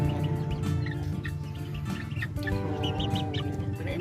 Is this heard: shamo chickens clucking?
yes